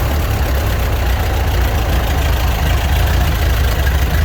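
A 70-year-old tractor engine idling on a cold start, a loud, steady low rumble with a rapid, slightly knocking pulse that runs unbroken and close, no voices.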